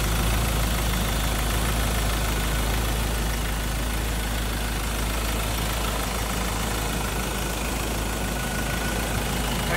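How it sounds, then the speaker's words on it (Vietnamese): A Ford Ranger Wildtrak 2.2 diesel, single-axle drive automatic with 130,000 km, idles with its hood open, a steady close mechanical rumble and clatter with no talking. "đây là cái tiếng động cơ đang hoạt động nhá"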